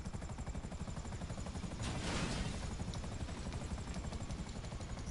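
A helicopter sets down in GTA with a steady, close rotor chop and engine drone throughout and a brief swell of rushing noise midway.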